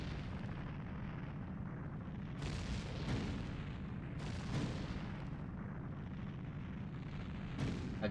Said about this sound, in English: I would split at this like first explosion.